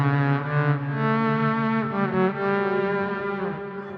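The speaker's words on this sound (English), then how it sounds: "the tera echo will give me that ambient delay sound trail at the end" Sustained Boss SY-200 synth pad with slow gear volume swells and tera echo ambient delay, a rich harmonic chord that blooms and hangs steadily with a lingering trail, no voices.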